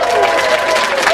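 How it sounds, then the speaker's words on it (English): Audience applause at the formal ceremony of John Wayne's 100th birthday event: a dense burst of many hands clapping with some crowd noise, loud and sustained across the whole moment. "Let's give a nice round of applause."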